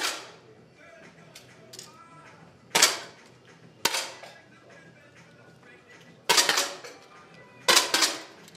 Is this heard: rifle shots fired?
yes